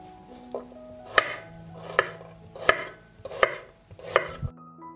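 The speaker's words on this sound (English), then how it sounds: "I cut the peppers into fillets and will mince 1 head of garlic." A knife mincing a head of garlic on a cutting board, five or six crisp, evenly spaced chops at close range with a faint tap between them, no voices.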